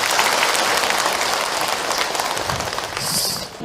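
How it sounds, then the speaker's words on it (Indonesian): Dense applause from a religious lecture audience fills the hall, holding steady and loud before thinning slightly near the end. "Tepuk tangan buat Mbak yang bertanya."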